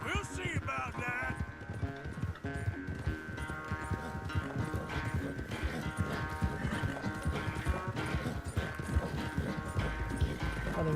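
Thoroughbred horse hooves pounding in a steady galloping rhythm in Red Dead Redemption 2, loud and continuous beneath a bed of game music and chatter.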